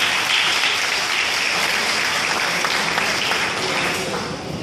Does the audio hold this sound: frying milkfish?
no